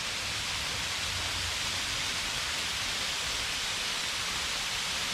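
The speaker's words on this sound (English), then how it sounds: "It's a pretty waterfall." Lost Sink Falls, a waterfall on a hiking trail in Keel Mountain Nature Preserve, Gurley, Alabama, gives a steady, even rush of falling water that fills the whole stretch with a constant hiss-like roar and no other sounds.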